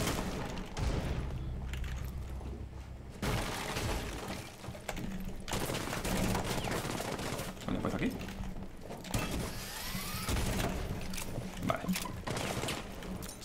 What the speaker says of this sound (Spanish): Dispara, dispara a través del suelo.